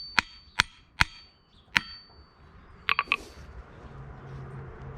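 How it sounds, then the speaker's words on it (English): Four sharp hammer blows on a century-old anvil, each leaving a bright metallic ring that lingers, followed by a quick cluster of three lighter taps. "Get out towards the heel, you still have some ringing."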